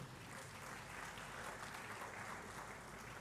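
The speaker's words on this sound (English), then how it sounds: "I think you don't need to be economical with the clap. You can clap further." An audience at KCCR's 25th anniversary Silver Jubilee celebration applauds with steady, continuous clapping that sounds fairly faint and distant.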